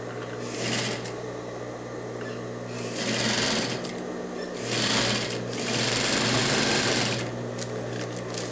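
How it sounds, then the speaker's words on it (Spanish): Overlock sewing machine stitching through trouser fabric, a steady close mechanical whir that runs in bursts with short pauses between seams. "Vamos a coser en medio del over"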